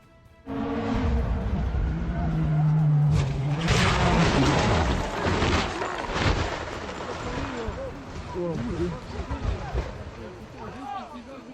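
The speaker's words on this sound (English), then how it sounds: "His Ford Puma slips. It crashes into a ravine, the safe side." A Ford Puma rally car crashing into a ravine: a sudden heavy impact followed by rumbling, crunching tumbles and clattering debris as it rolls, with a voice speaking over the chaos.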